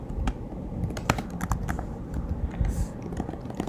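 Typing on a computer keyboard, a close rapid run of uneven key clicks and taps that continues steadily without pause, no voice over it.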